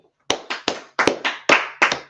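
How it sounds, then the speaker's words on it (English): A handful of people at a lecture clap in a loose, uneven rhythm, with about eight sharp, close claps ringing out over two seconds. "Let's clap it up for it"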